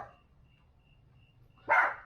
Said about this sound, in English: she's barking underneath the porch here. So it's super loud.